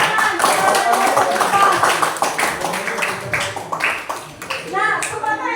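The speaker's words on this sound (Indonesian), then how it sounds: "berikan tepuk tangan kepada kelompok" A class of schoolchildren claps for a student group, with dense broadband clapping throughout and children's voices mixed in over the applause.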